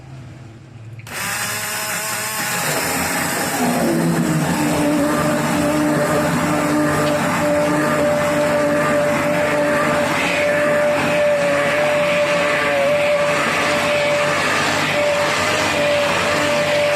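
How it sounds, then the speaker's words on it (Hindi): A handheld blender starts up and grinds soft cooked mustard greens for sarson ka saag, a loud continuous motor whine that settles into a steady pitch after a short surge, close and without talk. "साग हमारा गल चुका है, इसे बीटर की मदद से हम थोड़ा सा ग्राइंड कर लेंगे।"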